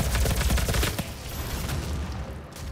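Gunfire in the multiplayer video game Doom, a loud rapid burst of shots for about a second, then fading into a rumbling, noisy background of continuing action.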